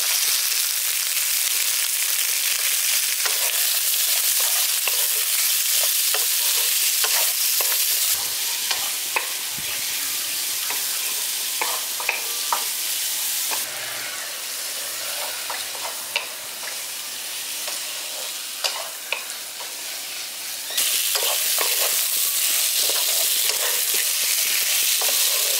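Pumpkin, potato and raw chickpeas sautéed with spices in a pan give a steady close sizzle, broken by frequent scraping and stirring clicks throughout, with no talk.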